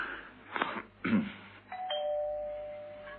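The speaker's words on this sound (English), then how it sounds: "Try the bell, sir." A doorbell is pressed, giving two quick ringing bursts followed by a longer sustained electric chime tone that fades slowly in a quiet room.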